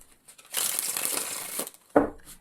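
A deck of tarot cards being shuffled by hand, one close papery riffle lasting about a second, then a short sharp card snap at the end.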